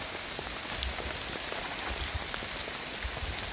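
Heavy rain falls steadily through a high mountain forest during mushroom gathering, a dense continuous hiss of drops on leaves and ground with scattered close splats, no voices.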